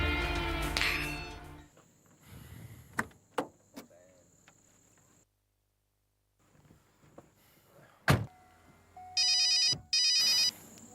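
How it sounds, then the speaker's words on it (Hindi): A telephone rings in two short electronic bursts near the end, after scattered clicks, a brief tone and a stretch of near silence. "क्या हुआ इंदर, फोन क्यों नहीं उठा रहे थे?"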